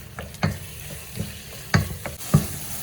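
Squid frying in a pan for squid biryani, stirred with a utensil: a low steady sizzle broken by several sharp scraping clacks of the spoon against the pan, close up with no talk.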